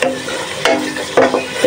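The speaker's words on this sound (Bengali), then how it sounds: "চাপিলা মাছের শুটকি আর বাইল্লা মাছের শুটকি দিয়ে আজকে তরকারি রান্না করতেছি।" A spoon stirs dried chapila and baila fish curry frying in a pan, with a close steady sizzle broken by a few scraping stirs.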